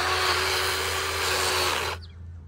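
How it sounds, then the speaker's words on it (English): A gas-powered chainsaw cuts through a palm tree with a loud, steady, high buzzing whine that holds for about two seconds and then cuts off abruptly, leaving a low background hum. "had to quickly run home to get my gas-powered chainsaw because the battery one sucked cutting through the palm tree"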